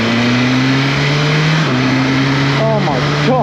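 A BMW M1000R motorcycle with a full titanium exhaust system on its first ride, engine droning loudly and steadily close by, with a brief pitch step and a quick blip of revs near the end.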